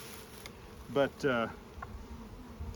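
Honey bees buzz steadily around Layens hives being smoked during an inspection, a soft continuous hum under brief bits of nearby talk.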